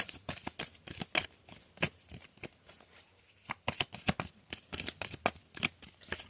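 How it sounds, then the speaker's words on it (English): Tarot cards are shuffled and pulled in quick riffling bursts with sharp flicks and snaps, close and crisp, a pause in the middle before the shuffling picks up again, and no voices. "I'm going to pull one more card here for yes."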